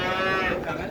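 A roughly one-month-old Belgian Blue calf at the Boyolali cattle market lets out one short, close, nasal moo that fades quickly, with no voices over it.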